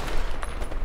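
Gunfire in Battlefield V, a rapid burst of shots packed into under a second, loud and close with no talk over it.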